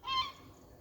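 Gulls fly over a garden and one call rings out, a single short, loud, harsh honking cry that cuts off quickly and leaves quiet outdoor ambience.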